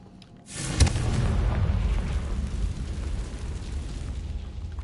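A Confringo fire spell bursts in Hogwarts Legacy: a sharp blast followed by a long rumbling, crackling roar that stays loud and gradually tapers, with no talking.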